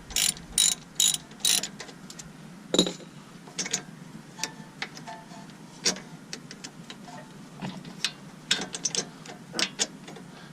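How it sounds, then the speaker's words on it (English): A ratchet wrench tightens a 13mm bolt on a Dodge Caliber SRT-4 during intermediate shaft installation, giving rapid close clicking bursts in uneven runs with brief pauses and metallic taps, no talking. "And then tighten this bolt"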